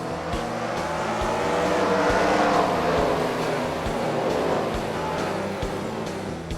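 Several simulated race cars circle a small track in the racing game NR 2003, a steady dense engine drone with overlapping revving tones running throughout, swelling slightly in the middle.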